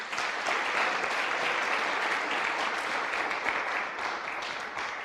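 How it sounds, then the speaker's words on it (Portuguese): A church congregation applauds steadily for several seconds, a dense wash of many hands clapping at an even, moderately loud level with no pauses. "Dê um aplauso no Senhor por isso."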